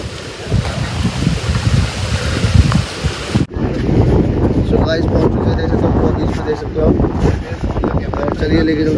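Strong wind buffets the microphone on the sandy Ganges riverbank beach near Ram Jhula in Rishikesh, a loud steady rush over flowing water. A voice talks over it.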